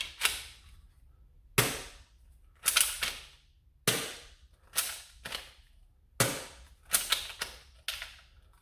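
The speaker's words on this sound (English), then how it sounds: "every time you prime the gun, it like loads another shell right after it" Toy Glock pistol firing repeatedly, about ten sharp snapping cap-gun-like shots spaced irregularly, each with a short bright crack and quick decay, close and loud with no talking.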